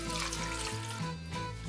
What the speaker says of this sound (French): J'ajoute maintenant le bouillon de poulet,